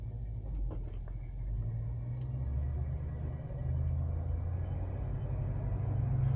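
A 1969 Ford Mustang Mach 1 running on fresh premium gas pulls away, its engine a steady, close, heavy low rumble that swells slightly as the car gets moving, with no talking over it.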